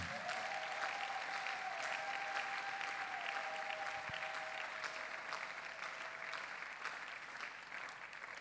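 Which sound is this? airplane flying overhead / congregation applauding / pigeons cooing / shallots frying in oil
congregation applauding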